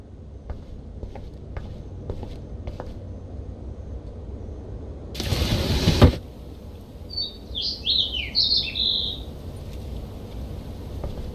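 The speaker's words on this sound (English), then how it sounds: "that poor little bird has been trapped in here" A trapped bird in the Life Is Strange video game gives a brief burst of high chirps, preceded by soft footsteps and a short loud rush of noise, over a quiet ambient background.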